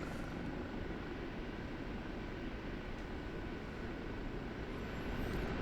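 Steady, dense engine drone and rotor-like rumble of an OH-58D Kiowa Warrior helicopter in the DCS flight simulator, constant and loud throughout with no talking.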